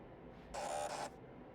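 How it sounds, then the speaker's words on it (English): Printer in the Alan Wake video game, late at night, whirring in a single loud burst of roughly half a second that rises sharply over a quiet room hum and then cuts off. "It's the printer making noises."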